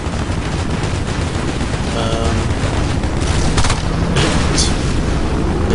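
Gunfire in the online shooter Battlefield Play4Free: dense bursts of shots and booms crackle continuously, loud and close, with occasional sharper reports and no clear talk.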